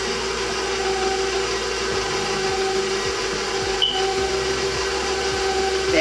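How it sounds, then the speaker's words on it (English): An electric mixer running steadily at low speed through vanilla cupcake batter, a continuous motor whir with faint rhythmic beater knocks. "I'm just gonna mix it. Start on a low stir so everything doesn't splatter all over the place."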